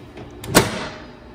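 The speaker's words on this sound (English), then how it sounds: "I'm gonna close the door" A microwave oven door swings shut with a single soft thud and click, close and fairly quiet, with faint room noise before and after.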